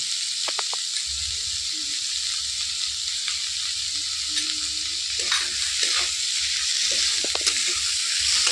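Vegetables with chopped tomato and salt frying in a pan for pasta, a steady loud sizzle throughout with scraping stir strokes and utensil clinks cutting in repeatedly.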